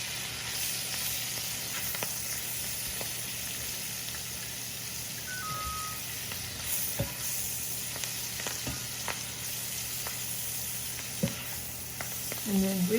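Garden lettuce sizzles in a big pan while it is folded over to coat it, a continuous close frying hiss broken by occasional soft scrapes and clicks of a utensil.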